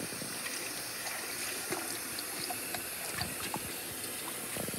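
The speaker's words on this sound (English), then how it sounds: "now I'm going to throw the water off and give it a second rinse" Chicken is washed in water for a Jamaican brown stew, giving a quiet, steady wash of running water with scattered soft splashes and clinks close by.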